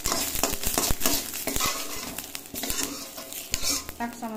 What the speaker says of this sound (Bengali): জিরে তুলে নেব ভেজে।